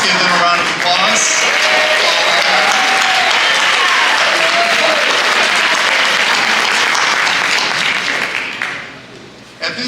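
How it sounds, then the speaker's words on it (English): An audience at a live stage show on motherhood breaks into loud, dense applause that sustains for several seconds, with cheers and voices mixed in, then fades near the end. "Let's give them a round of applause."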